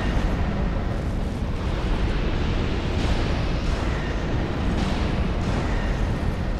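A loud, continuous rumbling roar of exploding barrels in Dark Souls 2, with repeated heavy bursts, with no talking.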